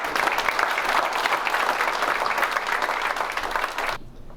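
A banquet crowd claps in steady, dense applause for about four seconds, then it stops abruptly.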